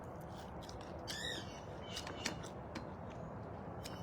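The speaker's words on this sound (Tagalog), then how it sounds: "Ang daming ibon sa paligid." Birds call outdoors over steady background noise, with a few scattered chirps and squawks, one more prominent call near the start.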